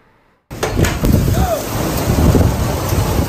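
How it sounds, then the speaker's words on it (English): Fierce wind and driving rain of a quick storm tearing through Lincoln on a Wednesday afternoon, a loud, steady roar of downpour and gusts with rumbling low bursts, starting abruptly after a half-second of near silence. "Fierce wind and rain ripping through Lincoln right around 3:30 Wednesday afternoon"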